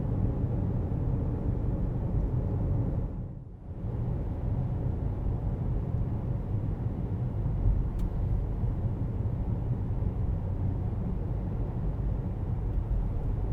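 A 2015 Nissan Murano cruising at a steady 45 mph with the engine near 1,000 RPM, giving an even, continuous road and cabin rumble with a brief dip in the noise partway through.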